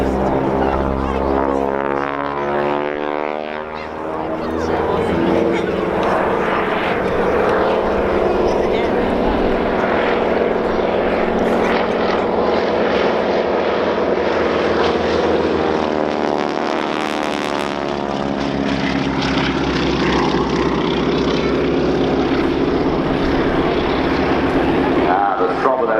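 Propeller biplanes of the Breitling wing walking team perform a display maneuver at the Dunsfold Wings & Wheels air show, a loud continuous engine drone with rising and falling pitch as they pass overhead, under a commentator's voice.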